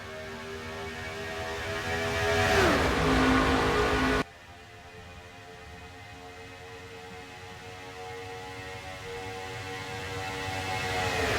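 Race cars in the NASCAR Racing 2003 video game accelerating at a restart at Michigan, droning engine tones rising and dipping in pitch, then an abrupt cut to a steadier, building engine roar.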